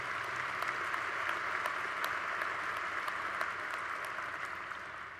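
Steady applause from a university spring commencement crowd in a large hall, continuous and fairly distant, with individual claps popping out of an even roar that tapers slightly at the end.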